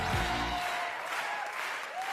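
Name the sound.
audience applause for comedian Mustapha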